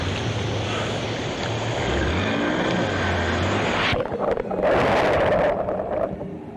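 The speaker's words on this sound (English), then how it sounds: "Breaking waves make it difficult to make a pickup." Breaking surf at Piha beach during a rip rescue, a steady broadband wash of waves with a rolling low rumble, swelling louder near the end as another wave crashes in close.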